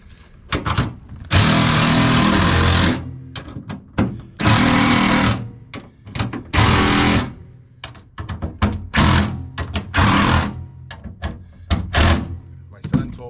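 A power gun tightening rivets on a boat seat pedestal, with several loud sustained whirring bursts of a second or two, separated by shorter clattering runs and knocks.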